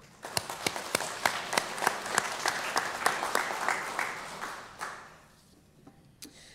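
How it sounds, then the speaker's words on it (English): A church congregation gives a round of applause: a small crowd's distinct, fairly even claps ring out for several seconds, then thin out and fade to near silence. "please give yourself a round of applause"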